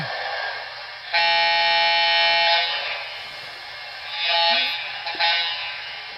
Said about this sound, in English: You got the brass air horn right there.